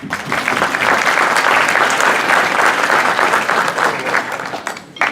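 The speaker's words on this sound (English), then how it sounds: "Let's give her a round of applause" Loud, sustained applause from a crowd at a business meeting, steady clapping that fills the space and begins to thin out near the end.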